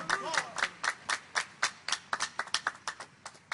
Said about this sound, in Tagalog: Isang malakas na palakpak uli sa ating dakilang Diyos sa buhay.